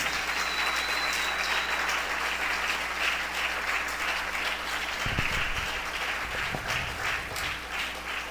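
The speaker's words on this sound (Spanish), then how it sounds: "Denle un fuerte aplauso al Señor." A church congregation applauds during a service, a steady wash of many hands clapping that fills the whole stretch at an even, loud level, with a few louder bursts near the end.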